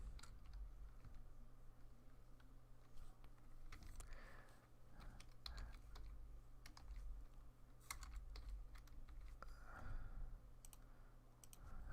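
Close, faint typing on a computer keyboard during live coding, irregular clusters of soft key clicks with brief pauses between bursts, over a quiet low hum.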